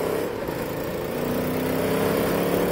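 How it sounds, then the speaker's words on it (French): A motorcycle with a loose exhaust manifold runs steadily nearby, its engine droning as a continuous mid-pitched rumble with no distinct backfire pops standing out. "Je sais pas si vous entendez, la moto elle pétarade."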